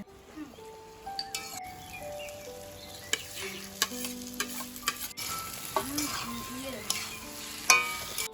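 Potol and shrimp curry stir-fried in a pan, with spatula clacks and scraping over a low sizzle, close and fairly quiet, with some background tones and no talking.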